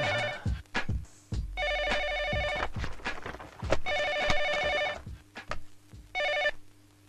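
A telephone rings in repeated bursts of bright electronic trilling, separated by short pauses, while footsteps and small knocks sound between the rings in an indoor room.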